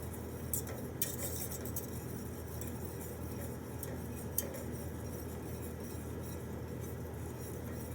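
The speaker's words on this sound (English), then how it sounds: "Continue to add a little bit more butter. Keep whisking." A whisk scraping and tapping in a pan as butter is worked into a beurre blanc over a very low flame, faint steady metallic swishing with a few light clinks, no voices.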